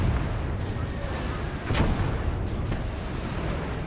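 An artillery barrage in Gates of Hell: Ostfront rumbles as a continuous low roar of distant impacts, with one sharper, louder blast partway through.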